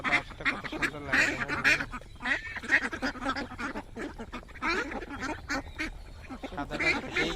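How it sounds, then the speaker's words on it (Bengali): A white duck quacks repeatedly in a village farmyard, loud, close and rapid, in overlapping bursts that run almost continuously. "সাদা হাঁসটা, কত সুন্দর লাগে।"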